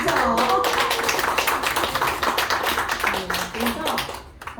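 Audience members at a scholarship foundation event clap in a loose, patchy scatter beneath someone speaking.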